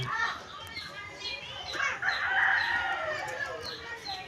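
A chicken clucks and calls repeatedly nearby, with other bird sounds mixed into an outdoor background.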